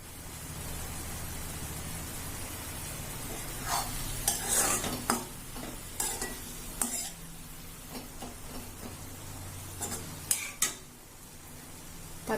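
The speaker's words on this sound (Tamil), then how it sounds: "தக்காளி நல்லா வதங்கட்டும்." Tomatoes sauté in a pan for mint tomato chutney, giving a steady soft sizzle while a utensil scrapes and stirs in irregular bursts, with some clattering strokes standing out above the frying hiss.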